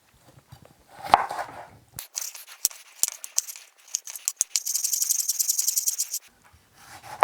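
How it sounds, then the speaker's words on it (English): A knife slices cucumber on a board for a salad garnish: a few scattered cuts, then a quick even run of crisp chops, in a quiet kitchen. "So for the salad garnish, I'm going to slice up some cucumber."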